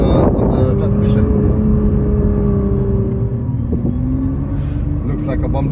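Nissan GT-R R35 (2021) engine note piped through the cabin speakers in R transmission mode, a loud steady droning rumble with sustained tonal hum that dips slightly midway, heard close from inside the car.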